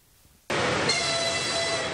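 A passenger train carrying football World Cup fans to Kazan sweeps in suddenly with a loud, sustained roar and a steady high tonal whine, close and continuous after a quiet start.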